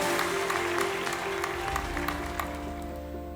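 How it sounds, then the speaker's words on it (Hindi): Applause from an awards ceremony audience at a healthcare leadership summit, welcoming a Bollywood actor; a steady wash of clapping fills the whole stretch, loud at first and easing slightly toward the end, with no voices over it. "कृपया जोरदार तालियों के साथ स्वागत कीजिए बॉलीवुड के असली लेजेंड श्री"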